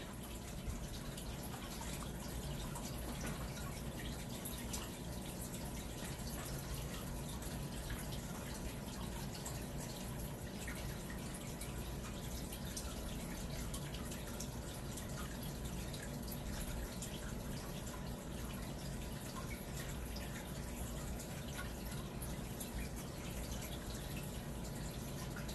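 Steady aquarium water burbling and trickling fills the whole stretch, a continuous close bubbling wash with faint drips, no voices.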